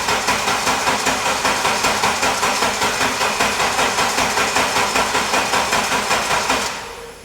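A VW Golf GTD race car engine cranking slowly, a loud rapid rhythmic chugging of the starter turning the engine over steadily for several seconds before abruptly cutting off.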